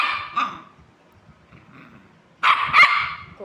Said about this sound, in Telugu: అది చూడండి ఎలా మురుగుతుందో.